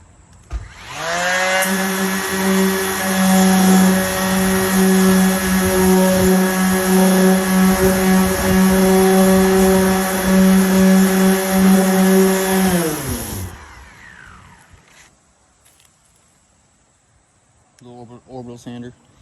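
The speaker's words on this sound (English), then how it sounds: "Little orbital sander using 80 grit, I believe" A small orbital sander fitted with 80-grit sandpaper works the body of a car, running as a loud, steady buzzing drone for about twelve seconds before spinning down. A few faint knocks follow at the end.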